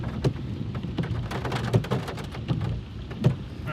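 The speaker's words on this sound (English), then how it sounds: "we've got golf ball sized hail" Golf ball sized hail falls after a tornado, a dense patter of hard impacts with louder cracking knocks every second or so, heard from indoors at a hotel reception with a low rumble underneath.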